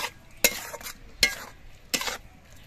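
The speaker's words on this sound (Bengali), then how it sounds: "সর্ষে, পোস্ত বাটা দিয়ে নেড়ে চেড়ে মিশিয়ে নিতে হবে" Green tomato being stirred with mustard and poppy seed paste in a pan: three distinct scraping strokes of a spoon against the pan, each followed by a brief soft rustle, with quiet gaps between.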